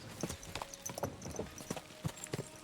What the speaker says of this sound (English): This horse spins on a dime.